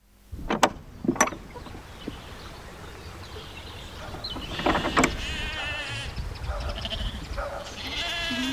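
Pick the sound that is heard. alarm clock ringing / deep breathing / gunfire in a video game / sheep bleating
sheep bleating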